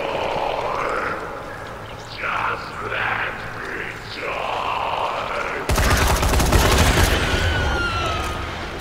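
Gunfire in the zombie game Dying Light: The Following erupts as a loud, dense burst near the end, following a stretch of game ambience with a voice talking over it.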